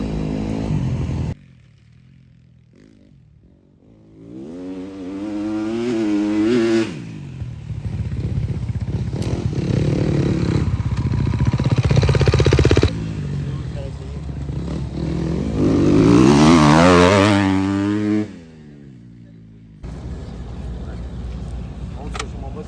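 A motocross motorcycle engine revs up and down in bursts at a sand track in Lommel, rising and falling in pitch, loud and close, with voices talking intermittently over it.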